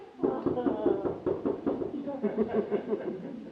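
Several sharp knocks on a door in irregular groups, loud and close, with a voice talking over and between them.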